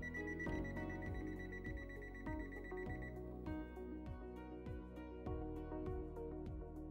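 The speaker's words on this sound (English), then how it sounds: "until the display turns off and starts beeping" A rapid series of electronic beeps from an NRCR AutoLearn controller repeats steadily for several seconds, clear and close, with no voices.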